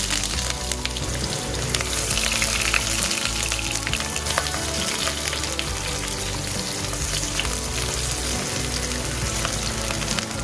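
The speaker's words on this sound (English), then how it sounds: "I'll fry the onions until it turns nice dark brown" Sliced onions fry in a mix of coconut oil and cooking oil for a Kerala beef roast, a dense, loud, continuous crackling sizzle heard up close with no pause.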